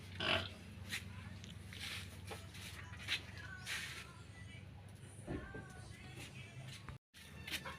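A pig in a wooden pen on a rural Filipino farm, grunting and snorting softly in short bursts at close range over steady low background noise, with occasional voices.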